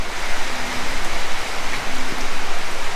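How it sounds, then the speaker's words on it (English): Rain falls steadily at a garage and workshop build site in Thailand. A loud, dense, continuous hiss of drops on surfaces, with no voices. "if it's raining like this, I mean, it's down to a splatter now"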